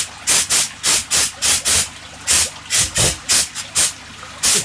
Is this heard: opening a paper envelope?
no